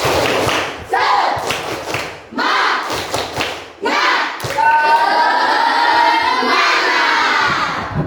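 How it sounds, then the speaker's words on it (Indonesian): Classroom of junior high school students performing a rhythmic spirit clap, loud sharp group claps and thumps in bursts followed by shouting voices, in a reverberant room. "Tepuk semangat."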